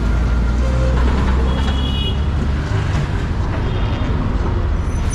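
Night-time road traffic in Delhi makes a loud, unbroken roar of engines and tyres, with faint tonal beeps surfacing briefly over the steady rumble.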